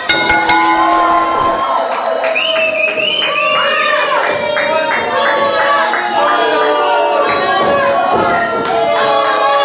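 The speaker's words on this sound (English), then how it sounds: "And the crowd clearly are not content with those results at all whatsoever." A lucha libre wrestling crowd reacts loudly to a match result, with shouting, whistles, jeers and scattered clapping filling the arena continuously. Children's voices are prominent in the close, boisterous din.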